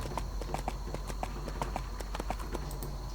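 Horse hooves clip-clop steadily in the EverQuest 2 video game, a quick, even trotting rhythm over a constant low game hum, with no talk.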